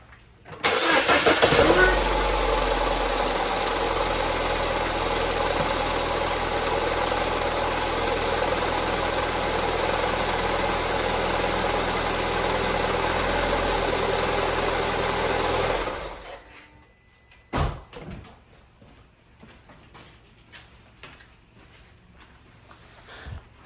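A Mini Cooper R56 engine, just fitted with a new rocker cover gasket, cranks and catches, then idles loudly and steadily for a long stretch before shutting off, followed by a few faint clunks and rustles.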